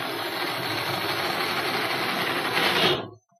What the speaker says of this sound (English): to tidy the job up with a little stitching screw, you just wind it in there